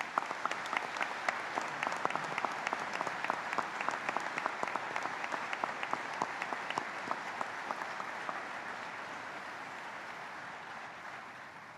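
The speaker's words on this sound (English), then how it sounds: "please join me in recognizing our Veterans National Leadership with your applause" An outdoor audience at a Veterans Day ceremony at Arlington National Cemetery applauds steadily, many hands clapping in a sustained burst that gradually thins out toward the end.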